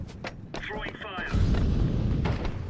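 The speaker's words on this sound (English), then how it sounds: "Throwing fire." An incendiary grenade is thrown and catches in Counter-Strike, with light clicks and chatter at first, then a low, rumbling whoosh of flame that swells and keeps burning as a person talks over it.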